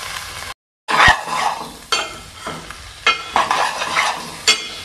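Boiled eggs frying in hot oil, a bright crackling sizzle that surges in several bursts as a utensil turns them, close and loud, after a brief gap of silence near the start.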